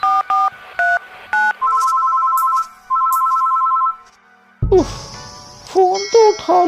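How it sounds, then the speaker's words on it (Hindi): A telephone rings at home at night with a repeated electronic ringtone: short tone bursts, then a longer steady two-tone ring, followed by brighter warbling melodic tones, close and clear with no talk over it. "फोन तो उठा लो तपन।"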